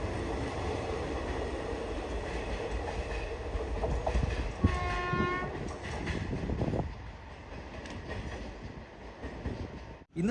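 A Thiruvananthapuram–Mangaluru express train running past with a continuous rumbling roar and a brief horn blast partway through, fairly loud and steady, with no voices.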